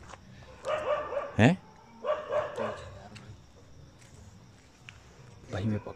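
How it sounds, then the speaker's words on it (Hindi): Village dogs bark at night in short repeated bursts, with one sharp close bark standing out, while people talk nearby over a steady outdoor background. "दोस्तों यार कुत्ते हमें वहाँ पे क्रॉस नहीं होने दे रहे हैं"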